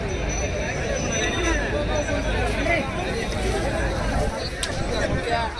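Thick chatter of a jostling crowd at the Nanded buffalo market, many voices overlapping in a continuous, lively murmur with occasional sharp clacks and brief louder calls.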